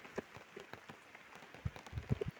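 Rain falls outdoors in a faint, scattered patter of individual drops striking a surface, quiet and irregular with a few closer, louder hits.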